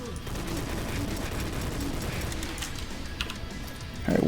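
Rapid video game gunfire rattles through a boss fight, a continuous busy spray of shots and impacts at steady loudness, ending in a sharper louder burst.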